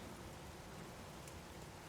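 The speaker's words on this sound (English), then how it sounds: "Yeah, it must be drizzling outside." Faint, steady hiss of light drizzling rain outside. The even patter holds without a break and no voices are heard.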